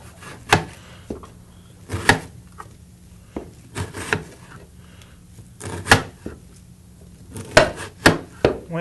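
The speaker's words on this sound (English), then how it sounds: "He's going to start chopping up the onions and the peppers." Onions and peppers being chopped with a knife on a wooden cutting board for a taco pie, a series of sharp, irregular close thuds spread through the clip with short pauses between cuts.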